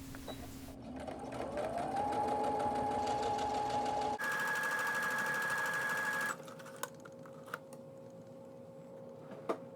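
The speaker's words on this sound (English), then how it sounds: "I'm taking this over to my machine and I'm going to sew that area" A sewing machine runs steadily, stitching a seam in striped fabric, a continuous close whir with a pitch change midway, then stopping and leaving faint ticks and light handling sounds.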